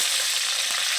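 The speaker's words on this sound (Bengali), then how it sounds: "ফোড়নের জন্য কালো সর্ষে আর শুকনো ঝাল ফোড়ন দিলাম" Black mustard seeds and dry red chili sizzle in a little hot oil, a loud, dense, continuous crackling hiss up close for about a second with no voices.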